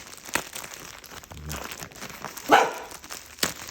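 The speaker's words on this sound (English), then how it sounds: "The dog has decided to bark at some random things." A dog barks a few times at random things indoors, short sharp yelps standing out loudly against a quiet background of rustling and crinkling packaging.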